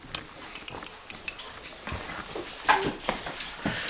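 Dogs being let out of a house, giving off quick scattered yips, soft whimpers and pattering feet, moderately near with no talking.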